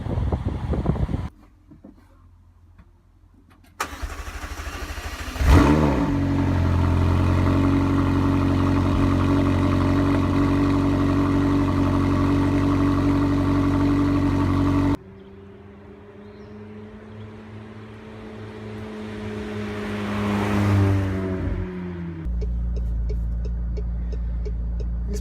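A 2018 McLaren 720S supercar drives past with a loud, steady engine drone, rising and falling in pitch as it accelerates and sweeps by twice, with a short quiet gap near the start.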